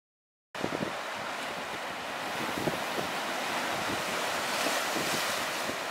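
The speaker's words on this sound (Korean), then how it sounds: "왼쪽에 해변에 파도가 엄청나게 치고 있어요." Strong waves crash on a beach on Ulleungdo, a loud continuous roar of surf mixed with wind buffeting the microphone, starting abruptly after a moment of silence.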